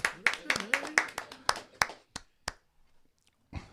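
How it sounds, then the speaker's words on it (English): A morning-show studio audience claps in sharp, irregular bursts for about two seconds, then a few scattered claps trail off into quiet, with a voice sounding over the claps. "Let's clap for Jermaine."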